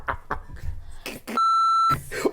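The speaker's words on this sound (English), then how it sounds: "I gotta beep you out on your own show" A steady censor bleep tone cuts over a spoken word, cutting off a voice on a home show by a Christmas fireplace. Clipped talk runs just before and resumes right after.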